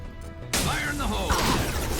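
A grenade going off in Mass Effect 2 and setting enemies alight, an abrupt loud blast after half a second followed by a sustained roaring, crackling wash, with a voice heard briefly over it.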